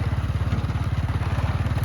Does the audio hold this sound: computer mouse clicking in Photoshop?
no